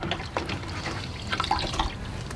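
Water sloshing and splashing in a bucket as an old rag is dipped and wetted, a steady close-up wash of liquid sounds with a few brighter drips and trickles near the end.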